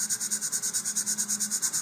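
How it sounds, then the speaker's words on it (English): Fine sandpaper, around 220 grit, rubbing on basswood model rocket fins in quick even back-and-forth strokes, a close, regular rasping rhythm of about eight strokes a second. "I'm going to go ahead and give them a little bit of sanding."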